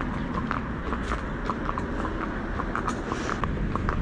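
A horse is ridden along a city street, its hooves clip-clopping in a steady, moderately close walking rhythm over a constant background of traffic rumble.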